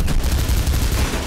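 Rapid bursts of gunfire from the video game Mirror's Edge, dense and continuous across the short stretch, loud and low-heavy with no talk over it.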